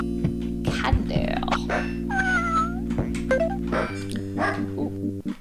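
Cartoonish cat meows and dog barks burst from a haunted-house video game over steady droning music, several short cries in quick succession, with a player's voice chiming in.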